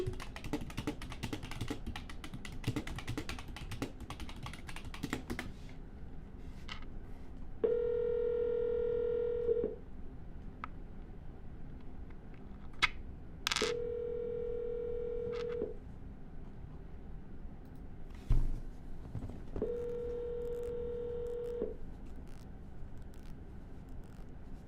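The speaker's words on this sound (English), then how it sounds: "We're going to double dial." A telephone call being dialed: clicks and taps of keys sit between three separate steady ringback tones, each lasting about two seconds and spaced evenly apart, all fairly quiet, with no speech.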